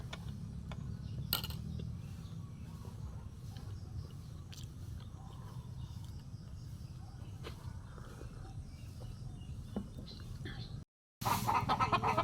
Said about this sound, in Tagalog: I-update ko kayo sa aking alagang mga manok